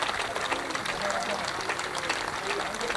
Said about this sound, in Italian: E continua, sembra non finire l'applauso del pubblico.